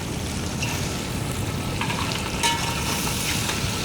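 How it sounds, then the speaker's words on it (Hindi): Biryani masala with chopped tomatoes frying in a pot for Sindhi biryani, giving a steady, even sizzle that hisses softly throughout with no talking. "तभी हम मसाला भून लेंगे जब तक टमाटर सॉफ्ट नहीं हो जाता।"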